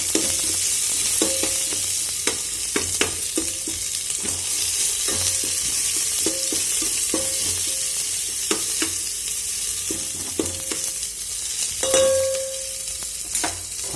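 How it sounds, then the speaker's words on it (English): Chopped onions sizzling steadily in a pan as a spoon stirs them, with repeated scraping clicks and knocks against the pan and a brief sharp squeak near the end, close and fairly loud. "chopped onions into this. So let's stir it for some time."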